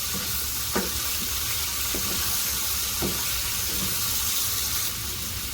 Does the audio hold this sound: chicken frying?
yes